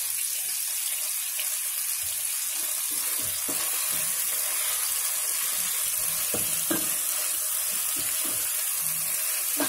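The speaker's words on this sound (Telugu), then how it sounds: "వేగిన తర్వాత కీమా వేసుకోవాలి." Minced meat (keema) with onions fries in a pan, a steady bright sizzle throughout, with scattered stirring knocks and scrapes and no speech.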